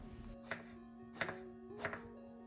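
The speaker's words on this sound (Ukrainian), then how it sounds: "Беремо один баклажан, нарізаємо кубиком, не дуже маленьким середнього розміру." A knife chops an eggplant into medium cubes on a board, three distinct crisp thuds spaced evenly apart, close and fairly quiet with a steady hum behind them.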